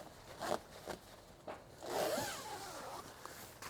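Clothing zipper pulled open in short quick tugs, then one longer rasping unzip, close and quiet, with no voices.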